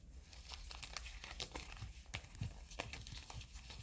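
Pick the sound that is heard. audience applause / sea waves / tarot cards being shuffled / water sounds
tarot cards being shuffled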